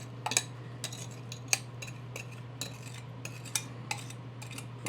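Liquids are poured into a bowl and a spatula scrapes it out while making zucchini bread, giving a string of sharp utensil taps and scrapes over a low steady hum, with no voices.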